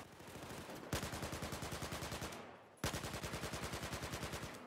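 Automatic gunfire in the video game Battlefield 4: a dense, steady stream of rapid shots in two long bursts separated by a brief pause, loud and close, with no speech over it.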